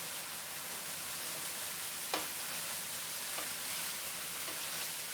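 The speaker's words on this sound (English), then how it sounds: "So we're just gonna saute this meat just a little bit" Beef sautés in a pan for stroganoff with a faint, even sizzle throughout, broken by a few soft clicks of a utensil stirring, with no talking.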